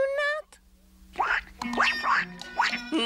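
A cartoon duckling quacks in several bright, squeaky bursts after a short chirpy call, close and clear over a faint background hum.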